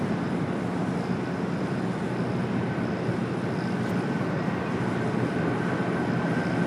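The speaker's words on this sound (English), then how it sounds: "Also just had a United Dreamliner touchdown at 25 at left." A United Boeing 787 Dreamliner lands on runway 25 left at LAX, heard as a steady, broad jet-engine roar that holds evenly throughout, with no voices over it.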